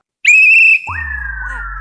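A woman whistling loudly, one shrill steady high note held for about half a second, then a loud rising synthesized tone takes over.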